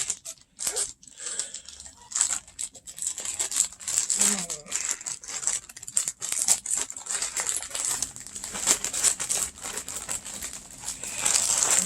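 A shipping box of yarn and fibre supplies being cut open and unpacked, with crinkling plastic, tearing and rustling packing material in close, irregular bursts, and a person talking at times.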